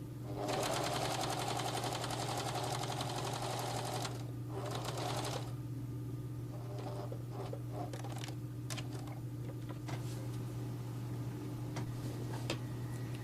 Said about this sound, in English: Cut that pleat and then just sew all the way to the end.